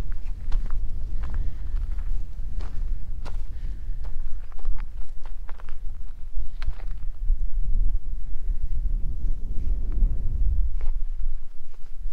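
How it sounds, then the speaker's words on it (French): Gusty wind approaching a mountain pass in the Queyras buffets the microphone with a low, rumbling roar, steady and strong, mixed with scattered crunching hiking steps and clatter. "le vent est un peu plus fort, c'est normal."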